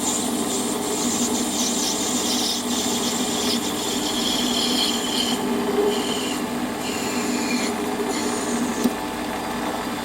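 A lathe parts off a needle file handle at 20mm, giving a steady close whine and rasping cut with bright high tones that shift and drop out in places, no talking.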